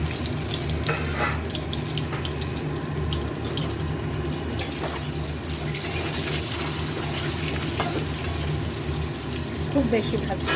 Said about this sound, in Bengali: ডিম আর আলুটা হালকা একটু ভেজে নেব।